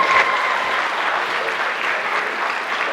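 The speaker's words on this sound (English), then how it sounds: "Everyone, blow a round of applause." A high school assembly audience applauds a guest speaker, with steady, dense crowd clapping that stays loud and even throughout.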